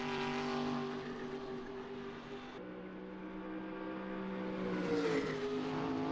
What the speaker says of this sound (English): That is the car of Jimmy Broadbent right now